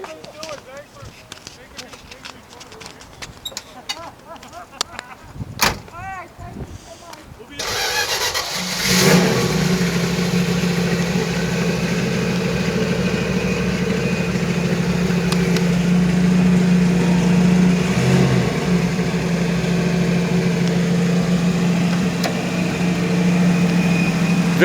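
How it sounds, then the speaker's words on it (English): A 1955 Chrysler 300C with a Hemi V8 cranks and fires up after a few seconds of quiet shuffling, then settles into a steady, loud, even idle held close by for the rest of the clip, with voices speaking briefly over it. "And if you give me a second, I'll start her up."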